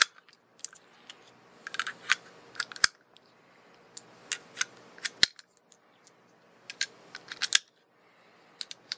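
Five cartridges are pushed one by one into a rifle, producing a string of sharp, close metallic clicks and snaps at uneven intervals, with a few louder clacks from the action, alone and fairly quiet.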